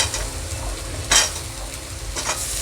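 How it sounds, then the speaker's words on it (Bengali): Potatoes and Malabar spinach stems fry in hot oil in a pan, a steady close sizzle broken by two bursts of scraping as they are stirred, with no talking. "আমি আলুগুলো আর পুঁই শাকের ডাঁটাগুলো দিয়ে আর একটু ভালো করে ভেজে নেব।"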